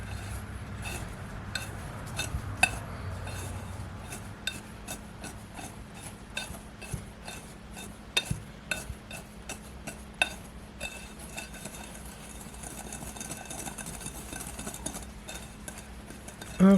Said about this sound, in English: So, I'm gonna start mixing it up a little bit here.